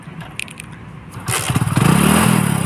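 A motorcycle being kick-started: a few thumps and scrapes of the kick lever, then the engine catches and revs up loudly at close range, running with a rough, rising drone.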